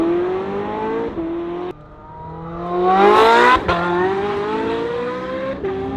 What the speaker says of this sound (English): you get to really hear the exhaust note, because the exhaust system is right behind your head